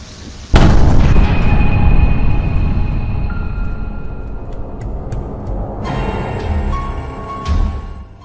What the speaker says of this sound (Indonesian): kami dikejutkan dengan suara seperti ledakan dari dalam bangunan